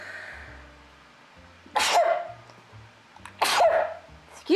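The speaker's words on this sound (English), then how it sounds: "gosh, I've got another sneeze." Two forceful sneezes about a second and a half apart, each with a sharp burst of breath, close and clear against a quiet room.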